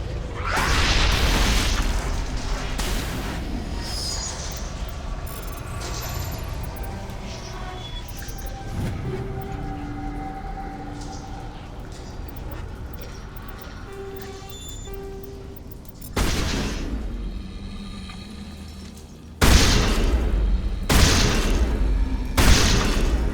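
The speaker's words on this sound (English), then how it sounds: "See, it has the explosion animation that, as if the Thorian creepers actually did blow apart." Thorian creepers explode in the Mass Effect game on Feros, heard as dull booms and bursts under continuous game music, with sharper, louder blasts arriving near the end.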